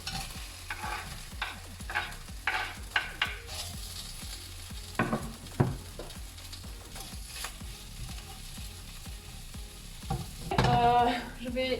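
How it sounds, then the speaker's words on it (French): Onions sizzling in butter in a wok, with a spatula stirring and scraping against the pan in irregular strokes, close and fairly quiet, with a louder rush of activity near the end. "et je vais y mettre les oignons."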